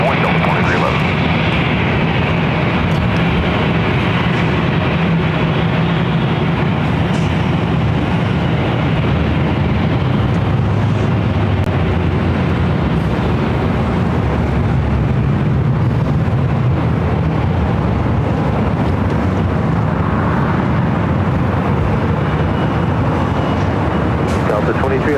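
A Delta airliner taking off from runway 24 left at LAX gives a continuous loud broad roar that swells and holds throughout, with wind buffeting and radio voices talking over it.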